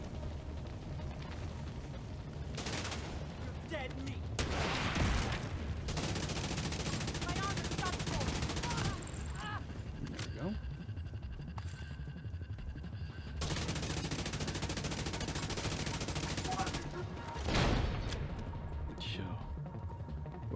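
Gunfire in the video game The Division 2 rattles in repeated automatic bursts over a steady, busy background, with louder volleys at intervals and a voice talking over parts of it.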